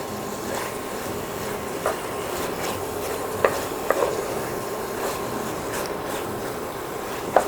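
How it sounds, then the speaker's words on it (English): Pork pieces sizzle softly in a pan for posole, a steady low frying hiss broken by a few light clinks and scrapes of a utensil against the pan. "Now, we're going to let that pork brown."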